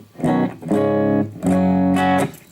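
An electric guitar fitted with a DiMarzio Super Distortion humbucker plays a clean-tone patch through a Boss eBand JS-10: four sustained chords, each ringing for roughly half a second with short gaps between, loud and close.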